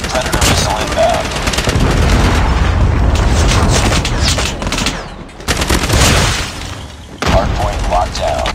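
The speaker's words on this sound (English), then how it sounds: "Predator missile inbound." Booming explosions from a Predator missile strike in Call of Duty Mobile ring out amid rapid gunfire and loud in-game combat, with a brief lull near the end before the blasts and shots resume.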